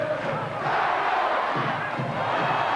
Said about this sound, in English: they're a noisy lot at Headingley, aren't they?